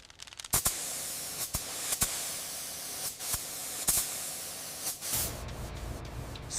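A spray gun lays a colour coat on an abandoned 1985 Mercedes-Benz 280 GE G-Wagon in light, even passes. The steady hiss is broken by short pauses and brief bursts, and a louder, lower spray joins near the end.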